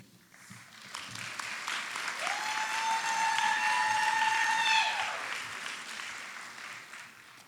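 Steady applause fills a college honors convocation hall, swelling and then fading over several seconds, with a faint sustained tone running through the middle.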